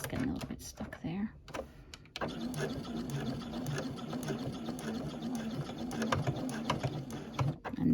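A sewing machine back stitches along the side seam of a crossbody bag, a steady close mechanical whirr of rapid needle strokes after a few hesitant starts, with a voice speaking over it.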